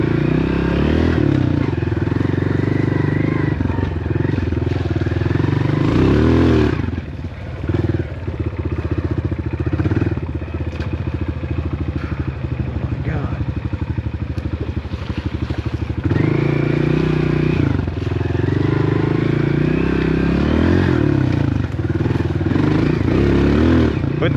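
A dirt bike rides along a trail after bad storms in New Jersey, its engine droning loudly and steadily with throttle surges and dips, plus clattering, wind and occasional voices.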